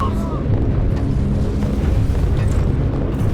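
A bomb explodes in a Garry's Mod air raid on an industrial complex, giving a loud, sustained low rumbling roar that fills the whole moment with heavy blast noise.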